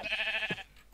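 Sheep bleating in a blocky survival video game, a single wavering bleat lasting most of a second, fairly loud and close, followed by quiet.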